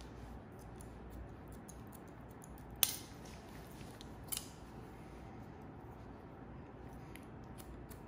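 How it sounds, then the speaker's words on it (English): Hair scissors point-cut a short pixie haircut with side bangs, making faint, sparse snips close by. One sharp snip stands out in the middle against a quiet room. "Point cut into that."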